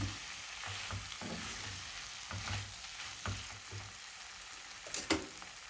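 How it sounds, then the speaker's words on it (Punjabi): Potato and moongre sabzi stirred in a pan, a faint sizzle with soft repeated scraping strokes of a spoon and a sharper knock near the end, no talking. "ਇਸ ਨੂੰ ਚੰਗੀ ਤਰ੍ਹਾਂ ਹਿਲਾ ਦੇਵਾਂਗੇ"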